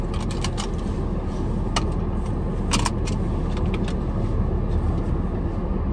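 A 20-year-old BMW E39 sedan drives along with a steady, loud broadband road and engine rumble, plus a few brief clicks and rattles scattered over the drone; no one speaks.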